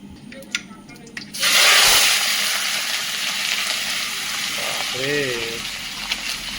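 Kadaknath chicken meat dropped straight into hot oil in a village kitchen bursts into a loud, steady sizzle that holds for several seconds, with faint voices talking underneath.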